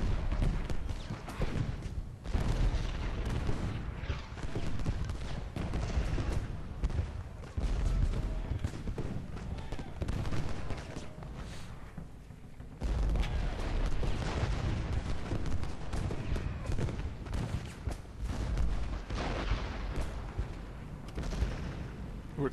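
Musket volleys and artillery roar without pause in a Gettysburg battle in Ultimate General: Gettysburg, as Confederate brigades fire into a Union flank, a dense, loud wall of gunfire with heavy booms throughout.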